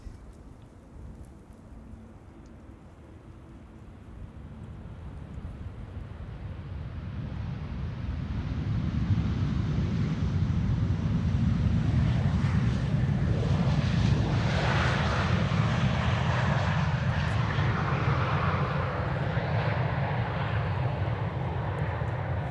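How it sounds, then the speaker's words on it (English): An Air Dolomiti airliner arriving from Frankfurt at Amsterdam Schiphol roars in, its engine noise building over the first ten seconds and then holding loud and steady as it passes close by, with some wind on the microphone. "Air Dolomiti arriving from Frankfurt."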